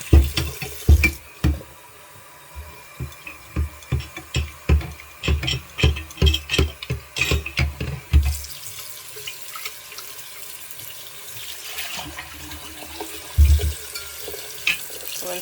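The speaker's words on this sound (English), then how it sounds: "Put some warm water in there. Rinse it out." Warm tap water runs into a sink to rinse out a container, with a string of clattering splashes and knocks at first, then a steadier soft flow and a later splash.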